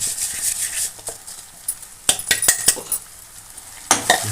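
Spoon stirring ground spice powder into a greens curry made with gongura (sorrel leaves) in a pan, giving scattered scraping clinks and metallic taps in short clusters, with a soft hiss underneath.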